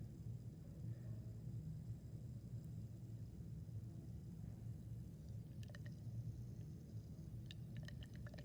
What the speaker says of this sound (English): You hear the little bubbles.